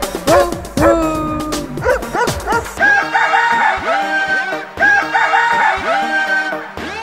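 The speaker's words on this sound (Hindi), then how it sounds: "तो कुत्ता बोले भू भू भू।" A few short dog barks ring out early, followed by crowing and clucking fowl over a repeating musical backing.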